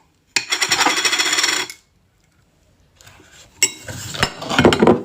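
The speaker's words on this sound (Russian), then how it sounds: "Размешиваем хорошенько все это дело." A spoon clinks and scrapes rapidly against a cup while stirring egg yolk, baking soda, honey and warm milk, first in a loud steady burst, then after a pause in a second, more irregular run of clinks.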